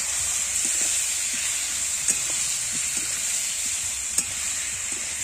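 Turmeric, chilli powder, Kashmiri chilli powder and salt frying in a pan, a constant close hissing sizzle with occasional light spatula taps and clicks, no voices.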